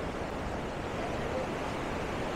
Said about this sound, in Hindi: बहाव बहुत तेज़ है, पत्थरों की भरी हुई नदी है ये।